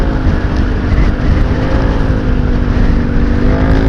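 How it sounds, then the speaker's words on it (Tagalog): Vehicle with a loud exhaust muffler passes on a road, a close, steady, heavy engine roar filling the whole moment with no talk. "hindi ko nagugustuhan personally, yung mga maingay yung tambucho"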